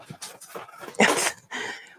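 A dog pants in quick, breathy huffs close by, with a brief whimper mixed in, moderately loud and steady over a couple of seconds in an indoor kitchen setting.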